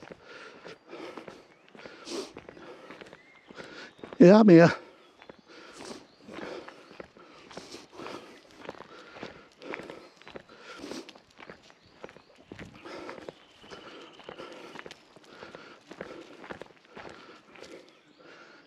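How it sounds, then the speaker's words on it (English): Footsteps walking outdoors along a rural path once lined with hazel bushes, a steady run of soft scuffing steps close by, with a brief louder snort or sniff partway through and a few quiet spoken words. "Footsteps."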